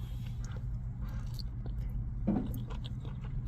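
Biting into and chewing fresh, hot Korean-style fried chicken with a slight crunch, the soft chewing steady and close, with one louder crunchy bite near the middle.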